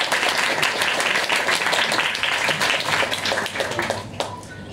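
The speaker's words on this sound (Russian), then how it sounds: "Не жалейте никогда аплодисменты." Concert audience applause, dense and continuous with many hands clapping at once, loud and steady before easing slightly toward the end.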